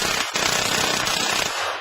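A Mac 22 submachine gun fires a dense, continuous burst of rapid shots lasting nearly two seconds, loud and close, with a brief gap near the start.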